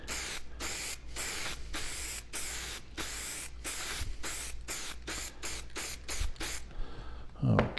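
Lacquer finish sprays onto mahogany wood in a run of about fifteen short, sharp hissing bursts from an aerosol can, close and moderately loud, quickening toward the end before a brief clatter.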